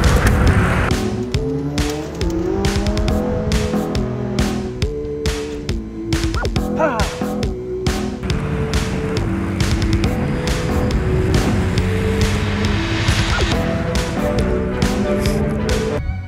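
A McLaren 675LT accelerates hard through New York City streets, its engine climbing through stepped revving tones with tire squeal, loud and close, and the noise barely lets up throughout.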